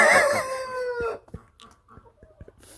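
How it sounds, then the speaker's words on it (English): A nearby chicken lets out a drawn-out, falling call, then a few short, soft clucks at uneven intervals, with no talk. "You got something to say, chicken?"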